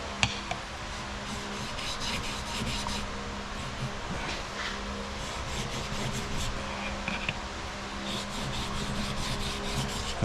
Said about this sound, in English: And then you just put some lapping fluid in there and get to it.